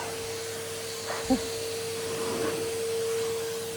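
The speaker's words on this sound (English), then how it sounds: "let's switch the vacuum off for a minute" A household vacuum cleaner runs in a house entrance during a deep clean, giving a steady, fairly quiet whirring drone. A short bump is heard partway through.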